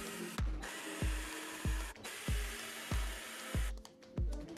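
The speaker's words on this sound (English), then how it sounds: "I drilled pocket holes into the pieces of the cabinet carcasses and spaced the holes roughly 6 to 10 inches." A power drill bores pocket holes into wood cabinet carcass pieces for a DIY computer desk, with about eight short whirring bursts in a steady rhythm, close and loud.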